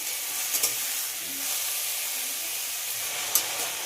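Chopped potatoes fry with onion in a pan, giving a soft continuous sizzling hiss at moderate level with a few faint clicks of stirring, no talking.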